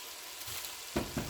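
Shredded cabbage cooking in a pan for homemade egg rolls, a soft steady sizzle with a couple of brief stirring scrapes near the end.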